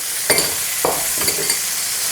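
Sausage sizzles in a pan with water, a steady hiss punctuated by a few sharp crackling pops, close up with no talking.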